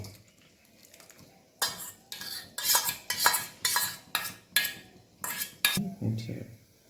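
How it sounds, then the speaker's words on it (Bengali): A spatula stirring payesh, a rice pudding made with milk, in a pot: a rhythmic series of close metallic scrapes and clinks, about a dozen strokes after a quiet start. "খুন্তিটা হালকা হালকাভাবে নাড়িয়ে যেতে হবে"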